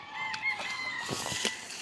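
A mother hen clucks on rural land, a few drawn-out calls and short clucks at moderate distance over a quiet outdoor background, with no voices.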